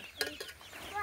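A rooster gives a short burst of clucks, faint and close, over about a second, with a soft voice in the background.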